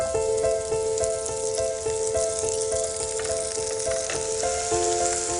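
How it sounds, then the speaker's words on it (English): Duck dodine with pistachios sizzles and fries steadily in a pan, a constant close crackle with a bright tonal hiss running throughout. "Now to cook the Dodine de Canard."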